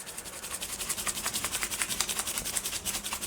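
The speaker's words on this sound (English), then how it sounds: "hitting it with the rub." Seasoning rub worked by hand over a wet, smoker-bound rack of pork, a steady close gritty rubbing with a fast regular pulsing rhythm and no talking.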